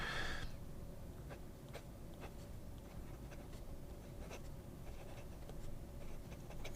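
A fountain pen with a number 5 steel nib writes on paper: a faint, steady scratching with occasional soft ticks of the nib, close and quiet, with no talking.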